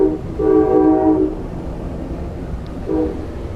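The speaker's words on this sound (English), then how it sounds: "you hear the toots from the train horn" Two toots from the horn of the Amtrak Cardinal train, a longer blast followed after a pause by a shorter one, heard from aboard the train over a low rumbling rail background.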